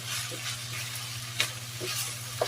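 Beef giniling with onion and garlic sizzles steadily in a pan while being stirred, with a few sharp spatula scrapes cutting through the constant frying hiss.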